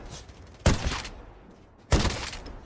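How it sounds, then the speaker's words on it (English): Two loud, booming blasts from the Argus shotgun in the mobile shooter game Call of Duty Mobile, each a sharp crack with a lingering rumbling tail, about a second and a quarter apart, with no voices. "Oh, the sound of this shotgun is so good"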